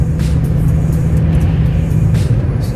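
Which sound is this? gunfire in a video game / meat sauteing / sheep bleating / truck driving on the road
truck driving on the road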